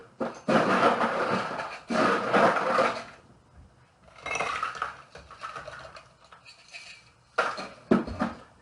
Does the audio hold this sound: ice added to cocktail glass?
yes